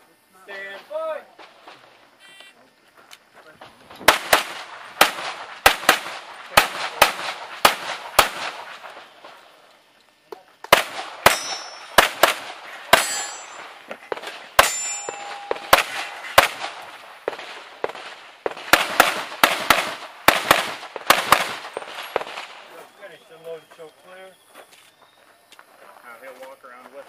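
Rapid bursts of gunshots fire during a stage of a 2008 Area 3 pistol shooting championship, loud sharp cracks in fast strings with short pauses between volleys, while voices speak softly between strings.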